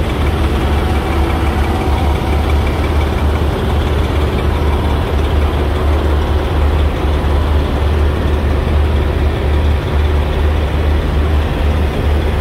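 A Detroit diesel engine on a smoking truck idles loud and close, giving a steady low rumble that runs without a break and with no voices.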